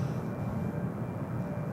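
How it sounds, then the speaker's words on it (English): A Boeing 777-200ER airliner arriving at SFO from Newark gives a steady, loud, low engine roar that holds without a break. "777 coming in from Newark, 777-200ER."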